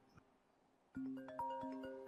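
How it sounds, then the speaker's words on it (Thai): A phone ringing during a GTA V roleplay session, heard as a bright melodic ringtone with stacked sustained tones that starts suddenly after a quiet moment and carries on steadily to the end. "ขอรับโทรศัพท์แป๊บนึงได้ไหม"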